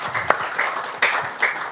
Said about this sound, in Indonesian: Yuk, tepuk tangan dulu dong.